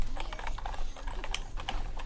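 Computer keyboard keys are mashed rapidly during a hard video game challenge, giving a burst of close, irregular clacking taps that runs through the whole short moment without speech.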